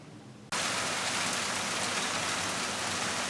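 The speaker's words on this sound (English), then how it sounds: "That's what I call steady, good rain." Steady, good rain with no hail begins abruptly after a quiet moment, then holds as a loud, even, dense hiss of drops pounding surfaces nearby.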